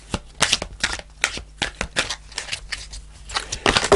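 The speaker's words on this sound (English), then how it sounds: "I'm going to pull a fairy card to finish off the reading" An oracle deck of fairy cards being shuffled and handled, with a run of crisp, rapid card riffles and flicks, close and fairly loud, ending in a denser burst of shuffling.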